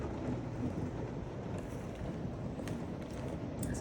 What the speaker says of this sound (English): since it's so nice and rainy outside, let me see if I can flip this around so you can see the rain